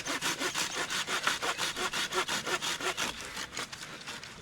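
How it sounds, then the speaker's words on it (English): A hand saw cuts through a piece of wood outdoors in steady, rhythmic strokes, about two per second, close and clear with no talk, slowing slightly near the end. "Saw it off right here."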